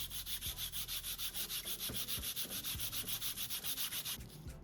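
Sandpaper rubbing back and forth over a 3D printed TV unit with a matte finish, a steady rhythmic scratching of close strokes that continues for several seconds before easing off at the end.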